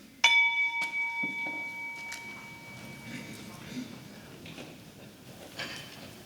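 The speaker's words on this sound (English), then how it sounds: "So I'm going to ring the bell" A single bell struck at a Rotary club centennial celebration, a bright ding that rings out and decays slowly over several seconds, with a few faint knocks and low room murmur around it.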